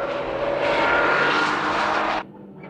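Honda NSX and Mazda RX-7 race cars at Tsukuba circuit roar past together in a loud, sustained engine blare that swells, then cuts off abruptly, leaving a faint engine trailing in the distance.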